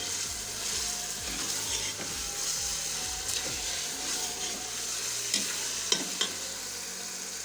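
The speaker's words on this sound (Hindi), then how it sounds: "मुसलसल आपने चमचा हिलाते जाना है।" A spoon stirs radish curry (mooli ka salan) in a pot, giving repeated rhythmic scraping strokes under a steady sizzle of frying, with a few sharper clinks near the end.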